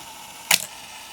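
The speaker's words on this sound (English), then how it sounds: "Mirror goes up and then the shutter will fire when the timer gets to the" A Sears TLS 35mm film SLR camera fires its shutter on the self-timer: a single crisp mechanical clack of mirror and shutter, close and clear, followed by a brief rattling settle against a quiet background.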